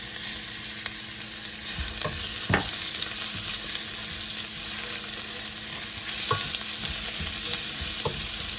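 Sliced bitter gourd stir-frying on high flame, a steady loud sizzle with occasional scraping and clinks of the stirring spoon against the pan, close up with no talking.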